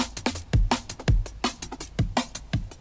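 Dry drum beat with no flanger applied, built for a track: punchy kicks and crisp snare or rim hits in a steady, syncopated groove, fairly quiet and with no voices.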